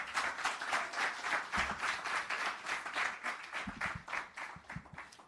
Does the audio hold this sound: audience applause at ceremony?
yes